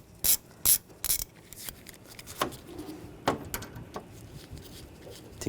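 Ratchet wrench with a T45 socket clicking as screws are removed on a 2009-2017 Volkswagen Tiguan during transmission cooler work; three loud close ratcheting bursts at the start, then lighter scattered clicks and taps with no talking.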